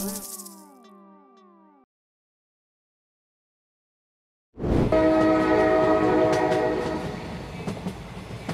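Cartoon train sound effect for a Bengali comedy animation about a railway job: a short run of whistle-like tones, a pause of silence, then a loud, sustained rushing rumble of a train running close by.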